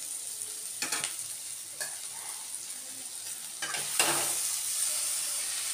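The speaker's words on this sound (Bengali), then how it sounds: "এখন এটাকে ভালো করে মিশিয়ে নেড়ে ছেড়ে নেবো বন্ধুরা" Potatoes and carrots frying in a pan with a steady close sizzle, broken by a few scraping stirs of a utensil against the pan, no voices.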